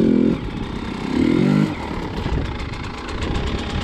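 Enduro motorcycle engine droning and revving in bursts, loud and close, the pitch rising and falling as the throttle changes, with no talk.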